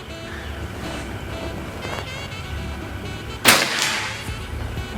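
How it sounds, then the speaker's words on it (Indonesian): A Predator Escobar PCP air rifle fires a single sharp, loud crack partway through, set against quiet outdoor background hum with no other shots. "Kita lanjut lagi ke tembakan yang kelima."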